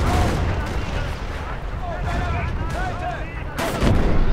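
Explosions, recoilless rifle blasts and gunfire from a war video game rumble and crack in a dense, continuous din. Excited commentary runs over the top.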